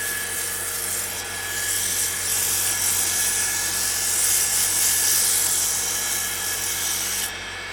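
Sandpaper rubs against the spinning end grain of a wooden noise maker on a lathe, a steady close hiss over the constant hum of the lathe motor.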